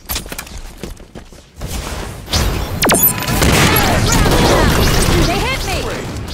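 Rocket launcher fire and heavy explosions from Halo 5 arena multiplayer: a launch whoosh, then loud sustained blasts and crashing debris. Game voice lines sound over the action.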